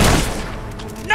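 A gunshot in the video game Fable 3 booms at the start, loud and low, with a deep rumbling tail that fades over about a second, while game voices talk.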